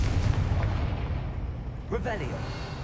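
A Confringo fire-blast spell is cast in Hogwarts Legacy: a low rumbling boom builds, then a sharp burst hits near the end, trailed by crackling, chirping sparks.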